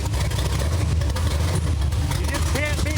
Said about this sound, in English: You just can't beat the sound of a V8 with a nice healthy cam in it